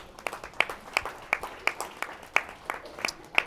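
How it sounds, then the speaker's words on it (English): A few people clapping at a panel discussion event, sparse individual claps in a loose, uneven rhythm, fairly close and distinct rather than a full crowd. "give yourselves a round of applause for being here."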